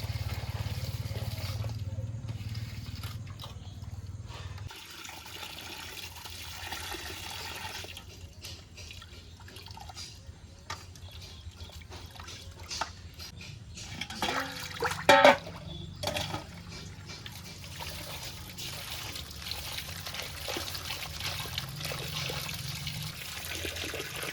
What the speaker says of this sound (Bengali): এবার মাছগুলো ধুয়ে নেবো